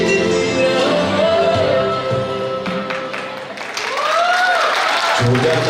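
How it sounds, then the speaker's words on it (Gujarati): An audience at a women's gathering applauds the Gandevi unit team, with moderately loud clapping mixed with voices and tonal sounds, swelling again toward the end. "જોરદાર તાળીઓ ગણદેવી એકમની પૂરી ટીમ માટે"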